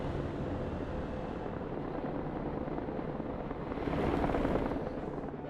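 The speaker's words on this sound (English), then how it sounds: "Helicopter." A helicopter flies in the video game Broken Arrow, a steady, broadband rotor and engine rumble that holds level and swells slightly toward the end, with no talk.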